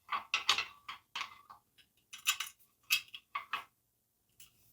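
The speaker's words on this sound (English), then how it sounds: "First, I'm gonna hand tighten that." A hand threads a small nut and washer onto a bolt beneath a scooter rack on a Meelod M7 electric scooter, producing quick, close metallic clicks and rattles in short irregular clusters separated by brief pauses.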